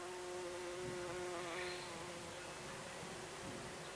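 A bumblebee colony buzzes inside a mosquito net covering squash or zucchini plants, a steady, droning hum with faint wingbeat tones and no voices.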